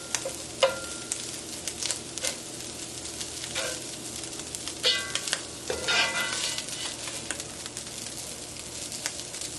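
Salmon patties sizzle steadily in a greased pan, with intermittent scraping and clinks of a spatula flipping and chopping them, close up and without talk.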